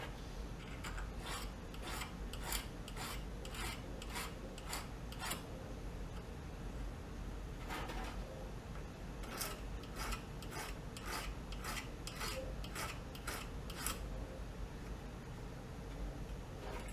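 A file rasps over the burr on a power rotary scissors blade for landscaping in quick repeated strokes, quiet and close, in two bursts of steady rhythmic scraping separated by a short pause.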